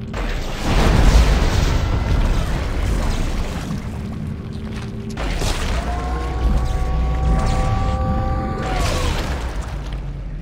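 Explosion in the video game Dead Space 2, a deep rumbling boom with a burst of noise, then a long low roar and mechanical whine that slowly settles, loud throughout.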